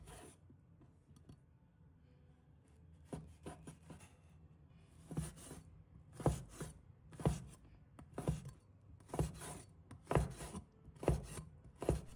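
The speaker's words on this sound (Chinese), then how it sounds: "再准备1条腊肠，把它切成小块。" A knife chops a Chinese sausage into small pieces on a board, first with light scattered taps, then with a steady run of firm, distinct thuds about one per second, close and alone, with no talking.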